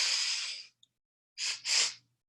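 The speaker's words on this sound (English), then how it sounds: "Inhale, inhale, inhale, inhale, inhale. 5 or 6 or 7 sniffs." Several quick sniffing inhales during a guided breathing exercise: one long breath, a pause, then two strong, close nasal pulls in a row, heard alone with no talk.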